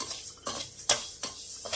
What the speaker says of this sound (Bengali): ডালটাকে আমি একটু হালকা ভাজবো,